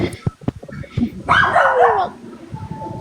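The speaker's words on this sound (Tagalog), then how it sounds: "Ano bang aso yun?" A dog barks once, loud and drawn out, with faint clicks and background noise before and after.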